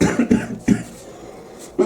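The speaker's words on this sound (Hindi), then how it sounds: "बोलते बोलते खांसी हो जाता" A male teacher in a math class coughs several times in a short burst, close and fairly loud, then gives one more cough after a brief pause.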